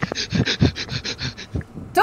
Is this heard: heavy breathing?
yes